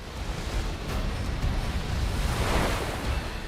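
Waves surge and batter inside a flooded cave in southern France, a dense, continuous roaring wash of water with deep low rumble, sustained and loud, with no voices.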